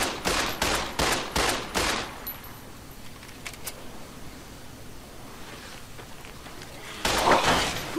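Gunfire in the Fallout New Vegas video game, fired by ghouls: a quick burst of five or six sharp shots at the start, a quieter stretch with faint noise, then another loud blast near the end.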